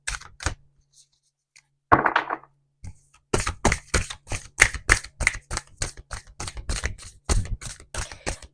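Rapid crisp riffling bursts of a deck of tarot cards being shuffled repeat, close and fairly loud, after a brief quiet start with a single softer rustle.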